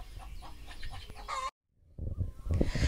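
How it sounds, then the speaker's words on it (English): Chickens clucking and squawking in agitated bursts, with a brief silent gap before the fowl noise resumes louder. "The chickens are upset."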